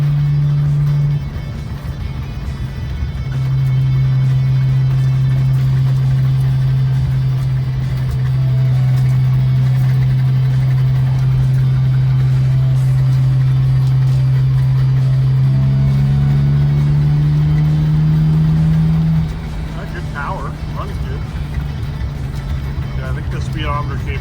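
A 1964 Corvair Monza 900 engine on a test drive hums as a steady low drone throughout, rising in pitch near the end before dropping back, with wind and road noise around it.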